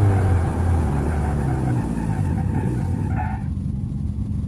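A Hyundai car in the BeamNG driving game brakes hard with a loud continuous engine and tyre roar that drops away near the end, with no talk over it.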